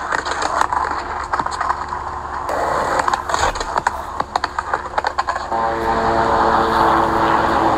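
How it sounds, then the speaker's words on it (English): A propeller airplane passes overhead at a street skate spot, its steady engine drone sitting under ongoing outdoor ambience with scattered sharp clicks and knocks, holding a fairly constant loudness throughout. "there's a plane flying overhead"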